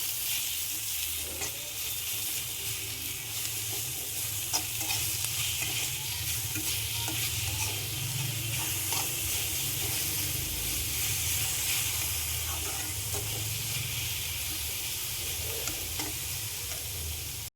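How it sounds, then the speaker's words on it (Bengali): Kulekhara greens being stirred with a tempering in a hot pan, a continuous loud hissing sizzle with soft scraping strokes running steadily throughout, close to the pan. "ফোড়ন এবং শাকগুলো একসঙ্গে খুব ভালোভাবে মিশিয়ে নিচ্ছি।"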